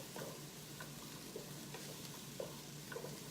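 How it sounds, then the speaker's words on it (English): Onions and garlic fry in a pan for a chicken and bacon alfredo bake, a faint steady sizzle with a few light stirring clicks and taps, quiet and close with no talk. "I just love the savory scent of onions and garlic that are frying."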